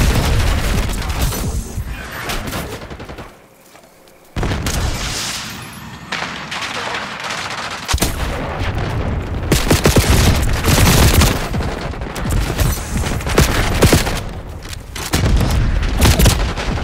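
A rocket launcher firing during a Hardpoint match on Nuketown in Call of Duty: Black Ops 6, amid dense, loud game gunfire and booming blasts with a short lull before the heavy barrage resumes.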